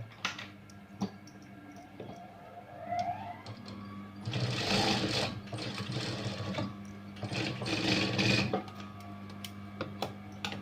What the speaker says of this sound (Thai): ตอนแรกเราก็เย็บจีบก่อนนะครั